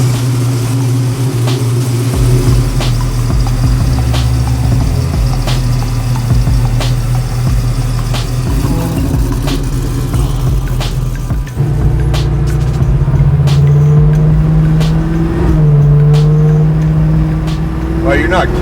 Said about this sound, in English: we'll throw some cameras in here and go fire it up and drive a little bit